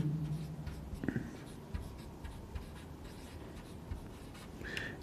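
Chalk or marker scratching across a board during a linear algebra lecture, soft irregular strokes with a few brief squeaks, close and fairly quiet, without talk.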